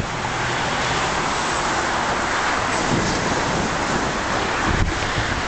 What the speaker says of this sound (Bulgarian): Праска на някакъв ужасен дъжд